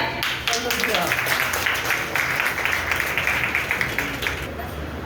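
A crowd at the closing ceremony of a girls' school book fair claps for teachers in a steady, dense patter of applause, with voices talking over it.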